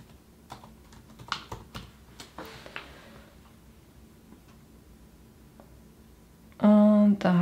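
Irregular clicks of someone typing on a computer keyboard, soft and close, scattered across several seconds before a voice starts speaking at the end.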